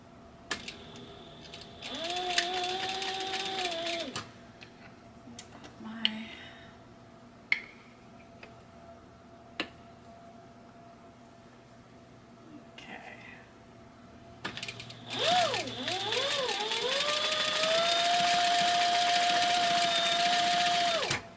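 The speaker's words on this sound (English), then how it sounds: "And I am going to back stitch" Sewing machine back stitching on an orange rag quilt: two bursts of motor whir, a short one early and a longer steady run toward the end, with quiet ticks and handling in between.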